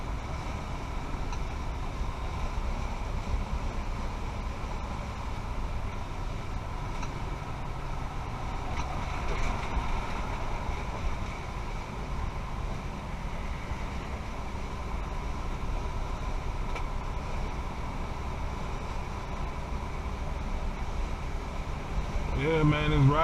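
A vehicle cruising steadily on a highway after shifting into gear, giving a constant, close engine and road drone that stays even throughout with no clear talk over it.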